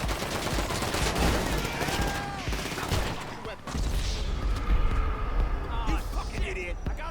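Rapid bursts of automatic gunfire from GTA V Online, fired from a moving vehicle during the First Dose mission, crackle continuously alongside game engine and street noise, with someone talking over the shooting.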